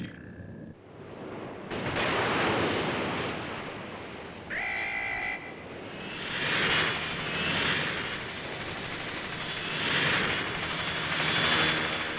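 An aircraft engine from an animated cartoon episode drones and swells in waves, rising and falling in loudness, with brief tonal whines cutting in partway through.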